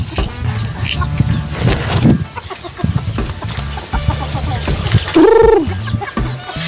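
Pet chickens cluck and squawk excitedly at feeding time behind a house, a busy close flock with rustling and flapping and one loud squawk near the end.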